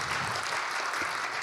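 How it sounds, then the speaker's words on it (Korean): Audience applause for a lawmaker at a public presentation event for new labour inspector training, a steady dense wash of clapping from a crowd throughout, fairly quiet and without talk. "다시 한번 박수 부탁드립니다."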